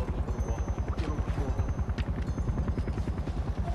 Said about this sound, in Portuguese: O helicóptero também?